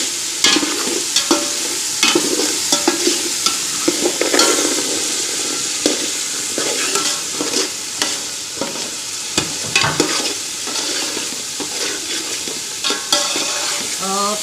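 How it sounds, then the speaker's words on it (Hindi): Spice masala with tomatoes and green peas frying for matar pulao, a loud continuous sizzle with repeated stirring scrapes and clinks throughout, no voices. "मसाला भून चुका है। अभी हम इसमें मटर डालेंगे।"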